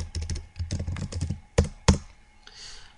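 Close, crisp keystrokes on a computer keyboard as a search is typed, with quick bursts of taps and a few sharper single presses.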